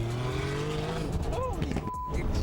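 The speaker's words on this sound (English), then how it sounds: "Look at the cars they driving, bro." Cars race hard through New York streets, engines revving and rising in pitch with a tire squeal, loud and close, under excited voices.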